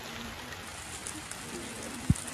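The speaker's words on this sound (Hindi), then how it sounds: "वहाँ देखो बारिश आ गई गाइस, हमें जल्दी भागना होगा यहाँ से।" Rain falling outdoors in mountain terrain, a steady soft patter of drops with a hiss across the background and one brief low thump near the end, no talk over it.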